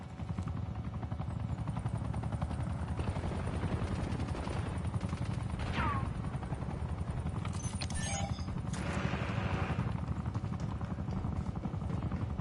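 A watchdog helicopter churns overhead in the shooter Black Ops 6, a loud rhythmic rotor thump pulsing steadily throughout, mixed with bursts of gunfire and other battle noise.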